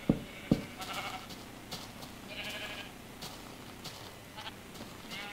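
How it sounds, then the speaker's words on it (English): A Minecraft sheep bleats in a swamp biome, with a few short, fairly quiet game bleats spread over several seconds, each one standing alone with no talk over it. "Get out of my way, sheep."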